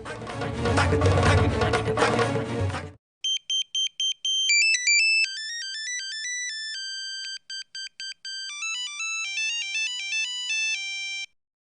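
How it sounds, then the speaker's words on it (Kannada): An incoming-call ringtone sounds on a phone in a television serial scene: a bright, melodic electronic tune of repeated short tones with brief gaps, following a few seconds of dramatic background music. "ಅಮ್ಮ ಫೋನ್ ಮಾಡ್ತಾ ಇದ್ದಾರೆ"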